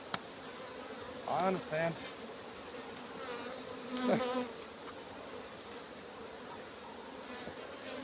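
Honey bees hum around an open beehive during inspection, a dense, steady buzz with a couple of louder close fly-bys, while a person speaks briefly and softly.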